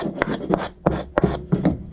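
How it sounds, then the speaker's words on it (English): Sanding block rubbed along the edges of a wooden toy block to round them off, a close, rhythmic series of about six scraping strokes with short pauses between. "which is just a sanding block"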